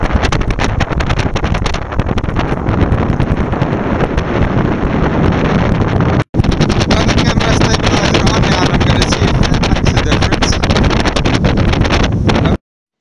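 A strong south-easterly wind roars across the St Lucia Estuary, buffeting the microphone in a loud, continuous rush with one brief dropout midway and no speech.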